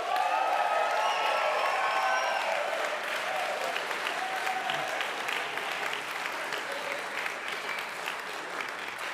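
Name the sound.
audience applause and cheering for the euphonium players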